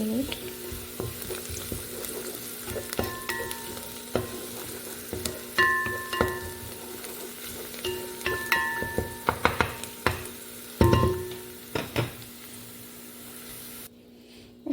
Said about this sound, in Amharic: ሽንኩርታችን እየበሰለ ነው ማለት ነው።